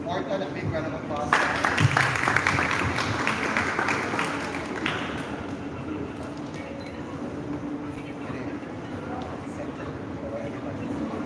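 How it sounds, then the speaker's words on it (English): Audience applause at a modeling agency event in the Philippines: a burst of clapping rises sharply, holds for a few seconds, then fades into a steady room murmur. "Let's give Morton a big round of applause."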